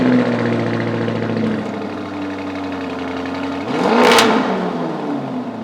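Lamborghini Urus engine idles with a steady hum, then revs sharply once near the end and settles back, heard up close with no voices.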